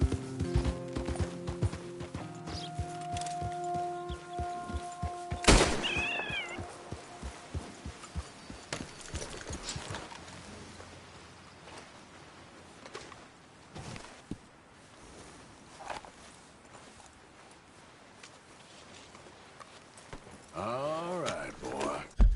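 Hooves of a horse in the Red Dead Redemption 2 video game clop in a quick galloping rhythm, faint and mid-distance, interrupted by a loud whinny-like burst and short talk.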